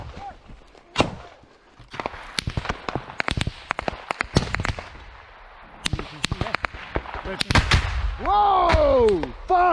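Rifle shots crack in irregular bursts during a combat assault on a village, some close and loud, others further off, with shouted voices mixed in and a whistling streak near the end.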